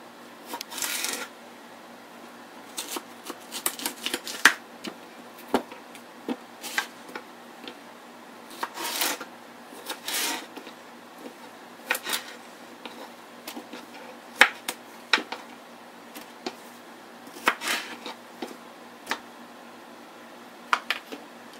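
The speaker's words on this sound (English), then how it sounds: "cut the cucumbers up into spears and add that into the bowl" A knife cuts cucumbers into spears on a cutting board, producing crisp, sharp chopping clicks in uneven bursts with short pauses, close and fairly loud, with no voices.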